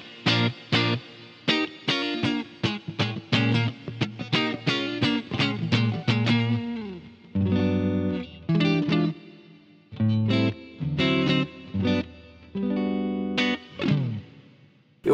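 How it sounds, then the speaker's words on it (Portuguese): A clean, undistorted electric guitar with just a touch of reverb plays alone: quick runs of plucked notes, then held chords and separate phrases with short gaps between them, each note ringing clearly and dying away softly. "O som da minha guitarra pura tá aqui, ó. Tem um pouquinho de reverb, nada mais, né?"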